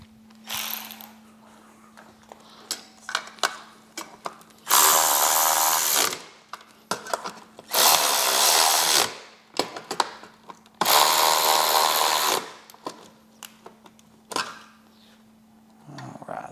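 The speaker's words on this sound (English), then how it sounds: "Get a ratchet and we'll tighten those up." A hand ratchet clicks rapidly in bursts while tightening bolts on a Harley-Davidson speaker tray, with three longer, louder stretches of dense ratcheting and scattered single clicks between them.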